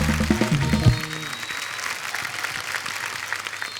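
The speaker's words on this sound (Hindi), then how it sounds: "एक बार जोरदार तालियां हमारे सब मेहमानों के लिए।" A studio audience at a comedy show applauds its guests: a brief musical sting opens, then dense, sustained clapping fills the room at steady volume until the end.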